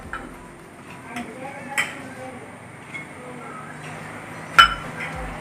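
A metal spoon scooping masala powder into a cup gives a few soft scrapes and several sharp, isolated clinks against the rim over a quiet kitchen background.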